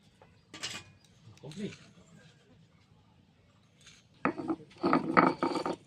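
Ginger and cumin being ground together in a grinder: a couple of brief scraping, grinding bursts, then a louder, longer run of rough mechanical grinding toward the end, with quiet gaps between.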